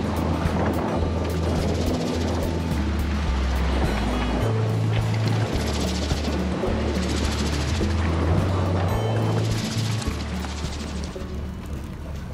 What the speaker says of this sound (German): Und deshalb ist hier so eine fiese Welle, ziemlich hoch und steil.